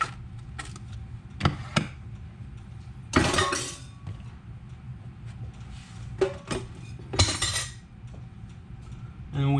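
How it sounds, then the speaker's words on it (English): Spoon scraping the inside of a halved item cut down the middle, giving light clinks and scrapes of metal with a couple of louder bursts of scooping, close up with faint background hum. "Scoop that side out."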